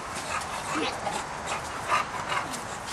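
A dog whimpering and panting softly, faint breathy whines close by in a quiet indoor setting.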